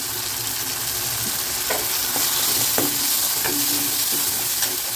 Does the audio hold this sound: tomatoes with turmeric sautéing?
yes